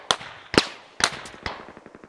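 Gunfire in the video game Squad: four sharp, loud shots spaced about half a second apart, each followed by a short echoing tail, then a few fainter, quicker pops.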